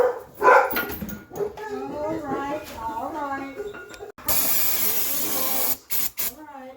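Several dogs bark and yip in a workshop where a 1962 Ford Falcon's front brakes are being repaired, the barks fairly close, mixed with someone talking, then a loud hiss of brake-cleaner spray near the end.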